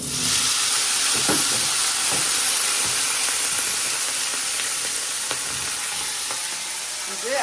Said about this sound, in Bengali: এই যে তেল দিয়ে দিছি আর তেজপাতা জিরা দিয়ে দিছি